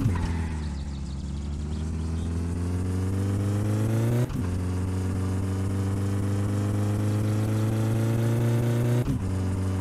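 A steady car engine drones loudly in My Summer Car, holding an even pitch with two brief gear-shift-like drops before revving back up, with no talking.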